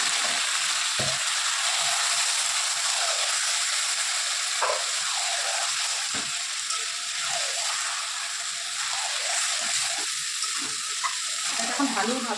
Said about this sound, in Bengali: এর মধ্যে ম্যারিনেট করা চিকেনটা দিয়ে দেবো সবটাই।